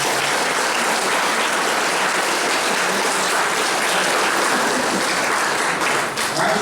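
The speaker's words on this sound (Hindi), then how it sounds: "हम जोरदार एक बार पुनः ताली बजाकर" A congregation at a confirmation mass in a parish claps hard and continuously, a dense, loud, even roar of hands that holds steady throughout, with only a faint dip near the end.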